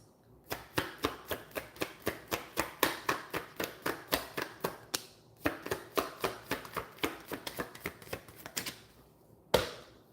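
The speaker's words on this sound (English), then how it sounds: "I'm going to do this shuffle 3 times." Playing cards are shuffled close up in quick, evenly paced crisp snaps, with a brief pause before a final sharp slap.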